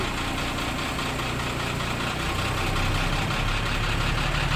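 A car engine rumbling steadily and loudly up close as the accelerator is pressed, a constant dense mechanical drone with low-end vibration throughout and no talking.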